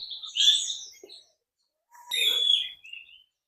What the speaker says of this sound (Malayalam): ചക്ക പൊയ്ക്കാൻ തുടങ്ങി അത് തിന്നാൻ വരുന്നേ കുറേ പക്ഷികളുണ്ട്